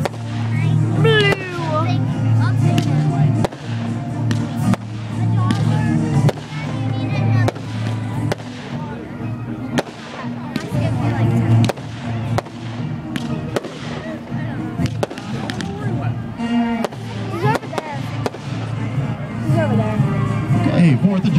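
A 200-gram 4th of July Parade fireworks cake firing outdoors, a steady string of loud pops and crackling bursts across the whole stretch, with a crowd and children chattering in the background.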